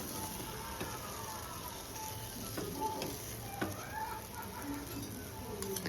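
Semolina sheera cooking with ghee, stirred in a pan, with a faint, low sizzle and soft scraping heard at a distance. Light chirps sound in the background.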